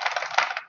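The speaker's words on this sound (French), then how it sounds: "C'est un vrai clavier, quoi. C'est vrai que avec des ressorts." Clicky clatter of a mechanical keyboard with spring switches being typed on, a quick close run of keystrokes lasting under a second with no talk.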